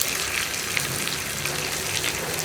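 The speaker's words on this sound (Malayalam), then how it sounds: "ആ ഉള്ളിയും കൂടി ചേർത്ത് കൊടുക്കാം. ഉള്ളി ഒന്ന് ബ്രൗൺ കളറായി വരുന്നത് വരെ നമ്മളൊന്ന് ഇളക്കി കൊടുക്കുക." Onions and cumin seeds fry in a pan for a pumpkin and lentil curry, giving a continuous bright sizzling hiss with faint scraping as they are stirred, close up and steady.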